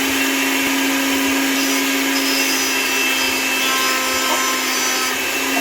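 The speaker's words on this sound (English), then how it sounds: "It's a buzzsaw." A running buzzsaw grinds into an Oreo cookie, giving a loud, constant motor whine with a steady hum and rough cutting noise that never lets up.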